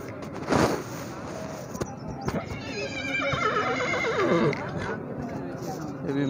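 Horses neigh and whinny at a horse market, with a loud call near the start and longer whinnying in the middle, over crowd noise and talking.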